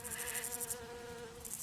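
Flies buzzing as a sound effect in a children's story, a close, steady insect drone with a faint pulsing high whine layered over a low background rumble, no voices.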